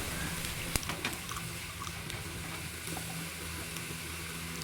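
Onions sautéing in a pan with turmeric and chilli powder for a bitter gourd egg fry, a steady soft sizzle with faint stirring scrapes throughout, no talking.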